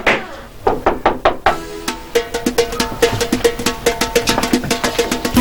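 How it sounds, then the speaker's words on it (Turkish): A rapid series of sharp knocks on a door, a few spaced raps at first, then a quick steady run of many more, loud and close. "Aha kapı çalındı bak."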